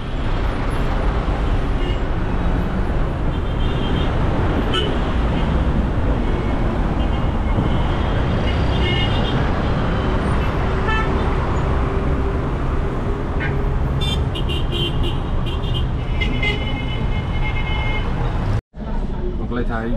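Congested city traffic on a road in Egypt, with a dense, continuous roar of car and bus engines, horns and a hiss of air brakes, while voices talk over the din.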